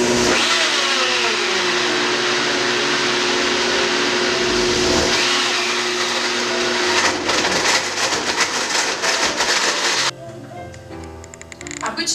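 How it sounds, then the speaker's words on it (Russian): A blender running on its large-smoothie setting for a green smoothie whirs loudly and steadily, then its pitch and texture shift as the contents churn, before the motor cuts back near the end; a voice speaks in the background. "Включаем наш волшебный блендер на режим смузи большого размера."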